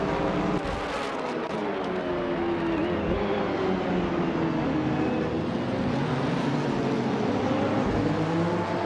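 A 1990 Mercedes 190E Evo 2 race car in the Retro DTM class of a racing video game, its engine a sustained loud drone that rises and falls in pitch with no talk over it.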